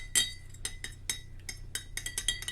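A metal spoon stirs borax into water in a glass, making a series of light, bright clinks against the glass in an irregular rhythm, close and fairly quiet, with no talking.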